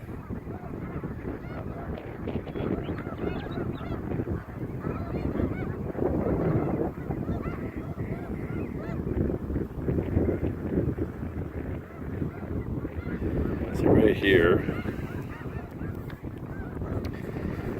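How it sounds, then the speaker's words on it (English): A flock of geese honks continuously nearby, a busy overlapping chorus with wind noise, and a person speaks briefly over it. "you got like a whole bunch of geese up front here"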